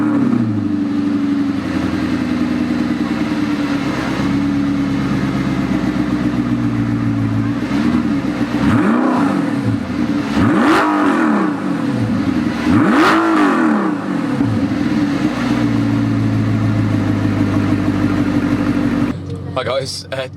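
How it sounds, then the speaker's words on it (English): A modified Audi R8 V8 idles with a low, steady burble, then gets three sharp throttle blips that rise and fall quickly before it settles back to idle, heard loud and close. "I might give it a bit of a blip now, just to show you guys"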